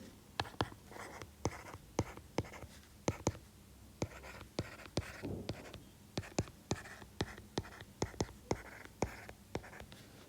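A pen scratches across paper while someone works through calculus math problems, making close, quiet strokes and taps in an uneven rhythm as equations are written out, with faint murmuring now and then.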